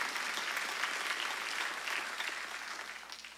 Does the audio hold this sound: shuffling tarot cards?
no